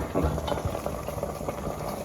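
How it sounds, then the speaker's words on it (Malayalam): Water bubbling and boiling at a steady simmer in a steamer, with soft irregular pops and a faint hiss of steam, close by. "ആവി വരുന്നുണ്ട് വെള്ളം തിളപ്പിക്കാൻ വെച്ചായിരുന്നു"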